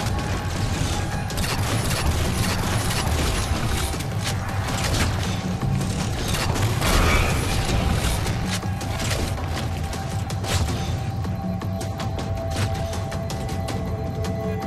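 Dense, continuous gunfire from enemies shooting at the player in Halo 4, a steady wall of crackling shots and mechanical clatter that stays loud throughout with no talk over it.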